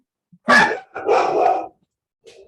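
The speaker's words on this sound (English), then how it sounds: "was a dog, I believe." A dog barks twice in quick succession, close and loud, with a fainter short yip trailing after a pause, heard over a quiet indoor room during a lecture.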